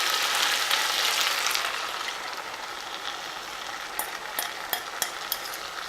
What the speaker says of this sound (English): You stir it again so you can have it pretty much as a sauce.